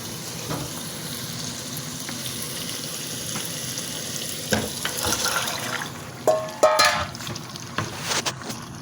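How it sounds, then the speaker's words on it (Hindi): Chopped potatoes sizzle as they go into hot oil for aloo keema, a steady frying hiss with scattered sharper crackles and clinks of stirring near the end, no talking. "अब हम इसके अंदर आलू जो है वो ऐड कर देंगे"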